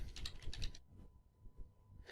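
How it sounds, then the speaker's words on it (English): Typing on a computer keyboard while entering text into a SolidWorks CAD program, a quick burst of close key clicks, a short pause with scattered taps, then another click at the end. "So I'll type"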